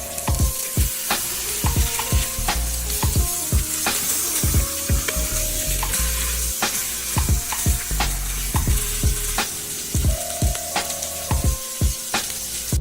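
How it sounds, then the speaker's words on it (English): Short ribs sear in a hot pan for an Instant Pot rib ragu, with a steady loud sizzle and repeated sharp scraping and knocking as the meat is moved and turned, close up with no voices. "Make sure you get a nice brown sear on all sides"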